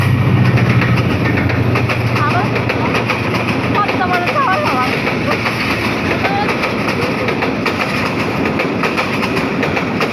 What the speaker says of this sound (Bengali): পরে ট্রেন আসতেছে, যাত্রী ট্রেন।